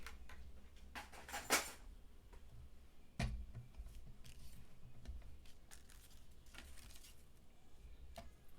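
Paper being cut for a Halloween card, a faint quiet crafting scene with a few sharp snips and ticks, one louder snip early and another scrape-like cut midway, over a low background hiss.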